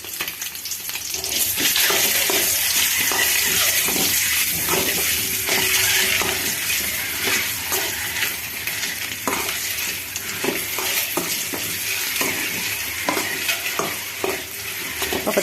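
Onion and tomato sizzling in a pan with a spoonful of oil and a little turmeric, a steady loud frying hiss broken by repeated scrapes and clinks of a spoon stirring.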